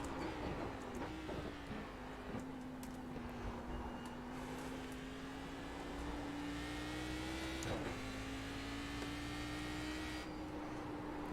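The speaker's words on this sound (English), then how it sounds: "You can pretty much just hear this thing whine as soon as you touch the gas pedal" A Cadillac CTS-V in a racing video game at Silverstone, its engine giving a steady high supercharger-style whine that holds an even pitch with small dips and surges, continuous and prominent, with no talk over it.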